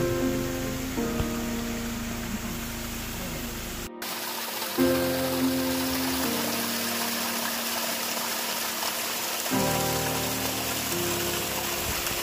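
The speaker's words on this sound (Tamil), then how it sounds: "மலை உச்சியில் இப்போது மழை பெய்து கொண்டிருப்பதால் எங்கும் குளிர்ந்த காற்று வீசுகிறது" Steady rain hisses continuously with a constant wash of falling water on a mountaintop forest near Manjolai hill station, while a low engine-like drone comes and goes underneath.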